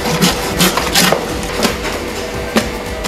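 A saw cutting through a huge frozen 185 kg Aomori Oma bluefin tuna at a Tsukiji wholesaler, heard as loud rhythmic rasping strokes, several in quick succession, then a pause before one last stroke.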